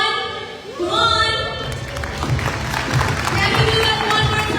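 At a Scania Philippines corporate evening, a hosted audience breaks into steady applause with thumping and cheering after a brief voice, the clapping sustained and fairly loud.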